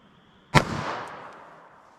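A single sharp gunshot from a Winchester White Box .380 ACP round fired into a clear ballistics gel block, with a loud crack up close followed by a decaying outdoor echo.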